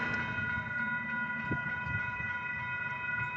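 A southbound BNSF grain train running on trackage rights, led by locomotives 7225 and 6178 with 5522, rolls past a level crossing with a steady rumble while crossing bells ring continuously over it.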